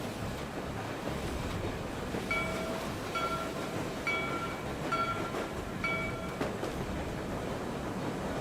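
A train rolls along in a video game, a steady rumbling run with rhythmic clacking and faint repeated tonal chimes over the noise, with no talking.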